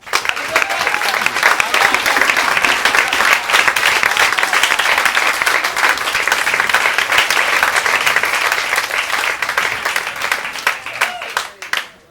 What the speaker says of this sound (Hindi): अब आप पुनः तालियां बजा दीजिए